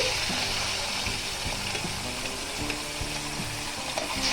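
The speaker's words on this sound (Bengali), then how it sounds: "মাছগুলি আমি ভেজে নেব" Fish pieces fry in a wok with a steady, close sizzle and light stirring clatter, the hiss continuous throughout with no one speaking.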